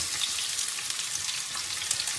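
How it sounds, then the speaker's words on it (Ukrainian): Sliced onion sizzles and crackles steadily in hot oil in a pan, a bright continuous frying hiss with tiny pops. "розігріли пательню чи сковороду. Буквально додали 2-3 столові ложки олії. Ми викладаємо нашу цибулю."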